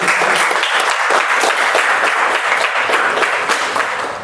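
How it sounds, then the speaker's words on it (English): A meeting audience at a poetry club session breaks into loud, close, dense applause that holds steady and then tapers slightly at the end. "so you can clap for me like in silence."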